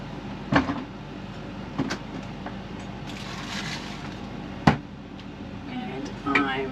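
A home freezer door thuds shut with a few sharp knocks and bumps spread out over the stretch, over a quiet room hum with a little talk in the background.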